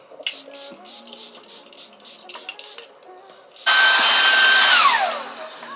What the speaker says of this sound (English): I use a blow dryer.